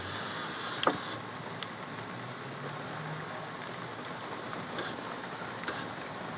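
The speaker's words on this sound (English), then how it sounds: "That's freaking storming like, or raining like crazy." Heavy thunderstorm rain pours steadily, heard from inside a truck on a Michigan road at night, a dense even hiss with a few sharp drop or tick transients near the start and scattered later.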